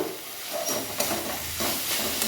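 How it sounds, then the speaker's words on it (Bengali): Leafy greens fry quietly in a pan, a soft, close sizzle and gentle crackle running throughout with faint stirring and no voices. "আমার শাক ভাজা হয়ে এসছে"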